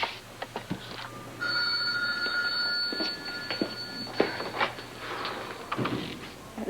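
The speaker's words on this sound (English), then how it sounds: "Page operator's ringing Dr. Davis." A telephone rings with a steady electronic trill lasting a few seconds, set against a quiet room with faint background noise and scattered small knocks.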